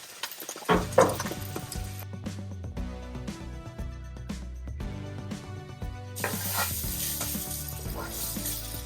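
Ginger garlic fries in a pan with a bright sizzle that flares up loudly at the start and again near the end, over a faint musical background.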